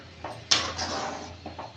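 Egg semiya with Maggi masala being stirred in a pan, giving soft clinks and scrapes of a utensil against metal, a sharper knock near the middle and a few lighter taps toward the end, with no talk.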